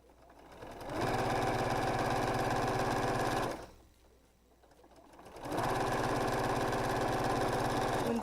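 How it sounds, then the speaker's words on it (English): A sewing machine stitches half-square triangle quilt blocks for a rainbow quilt, running in two long, even motorized bursts of rapid needle chatter separated by a brief pause, close and steady. "So I'm just going to place them right sides together, and then I'm just going to sew them all the way around."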